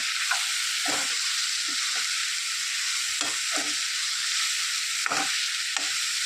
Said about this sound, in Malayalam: ഇനി ഇതിൽ എല്ലാം കൂടെ ഒന്ന് മിക്സ് ചെയ്ത് യോജിപ്പിക്കുക